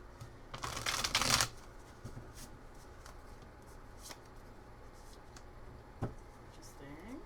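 Tarot cards shuffled by hand in one quick riffling burst near the start, crisp and close, followed by soft card handling and light taps in a quiet room.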